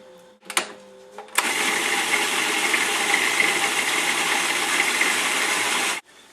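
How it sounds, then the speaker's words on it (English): Food processor pureeing tomatoes: a click and short handling noises, then a loud, steady motor whir with chopping rattle lasting about five seconds before it cuts off abruptly. "Food processor really helps puree them."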